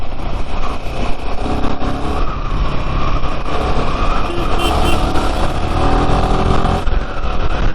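Royal Enfield Himalayan 450 motorcycle on a long ride, a loud continuous engine drone mixed with heavy wind rush, steady throughout with slight rises in revs and no talk.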